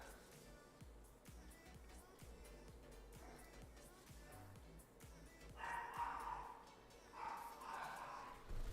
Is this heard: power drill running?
no